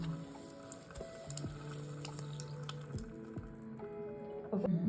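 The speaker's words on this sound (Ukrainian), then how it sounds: "І дивіться, скільки з неї вже витікає води." Water drips and trickles steadily from something being squeezed, with soft squishing and low background hum throughout.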